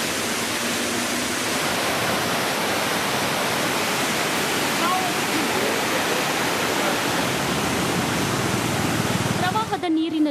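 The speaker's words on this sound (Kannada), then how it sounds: "ಪಾರ್ವತಿ ನದಿ ಉಕ್ಕಿ ಹರಿದು ಭೀಕರ ಪ್ರವಾಹ ಉಂಟಾಗಿದೆ" Flooded Parvati river rushing after heavy rain, a loud steady broadband roar of churning water running without a break until it cuts off at the end.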